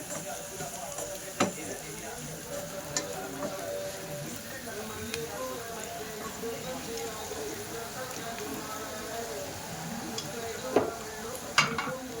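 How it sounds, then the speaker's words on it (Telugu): Bitter gourd is fried and stirred in a pan, giving a soft continuous sizzle with occasional clinks of the utensil, while a person talks over it. "మనం వేసిన కాకరకాయలని ఫ్రై అలా మంచిగా కలిసేటట్టు ఫ్రై చేసేసుకోవాలి"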